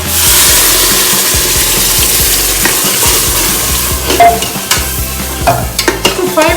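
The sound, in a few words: ground spice paste added and stirred into frying mutton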